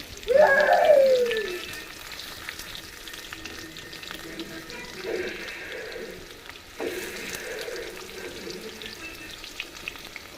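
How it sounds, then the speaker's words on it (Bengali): Marinated meat goes into a pan of fried onion and garlic on low heat, with a loud sizzling burst at the start that settles into a quieter crackle as it is stirred, then another sizzle swell later. "এবার হচ্ছে মাখানো সে মাংসটা দিয়ে দিলাম, দিয়ে এখন হালকা আঁচ করে এটা নাড়াচাড়া করতেই থাকবো।"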